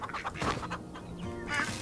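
Turkeys in the farming game Farm Together make short, chattering gobbles and clucks, a quick cluster of bird calls heard close and fairly quiet.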